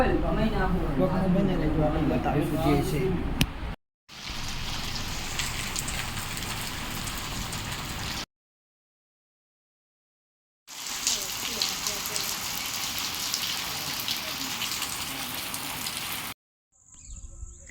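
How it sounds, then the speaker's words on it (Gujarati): Steady rain patters on surfaces in a dense hiss, broken by abrupt gaps; voices talk over it at the start. "વરસાદ બાર વાગ્યાનો ચાલુ થયો તો આવી રહ્યો છે થોડો"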